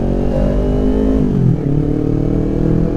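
A motorcycle with a loud aftermarket exhaust revs hard while being warmed up, a close, raspy, steady drone that sags briefly in the middle and then settles back to a constant idle-high roar.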